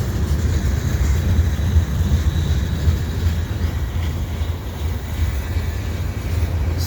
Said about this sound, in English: here we still have the CP train pushing itself back.